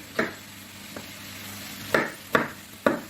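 A chicken fillet fries in a pan with a soft, steady sizzle, broken by several sharp scraping knocks as the meat is stirred or turned. No one is speaking.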